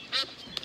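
A cartoon duck gives one bright, nasal quack, then a shorter second call, both brief and close against a quiet background.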